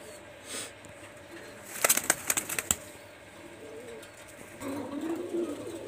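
Pakistani highflyer teddy pigeons, newly arrived birds, give a burst of wing flaps and scuffling in the middle, with soft low coos and faint background murmur around it, moderately close.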